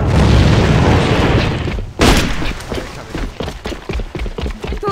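In the AVA shooter, a thrown grenade detonates with a loud, sharp boom amid steady gunfire, followed by scattered cracks and rattling shots.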